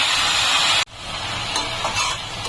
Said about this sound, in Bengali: লবণটা দিয়ে আমি ভালো করে নেড়ে চেলে দিলাম